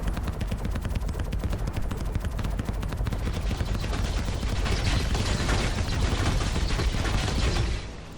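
Staggered turret gunfire from an Anvil Carrack in Star Citizen: a loud, unbroken stream of rapid shots rattles steadily for about eight seconds, then cuts off abruptly.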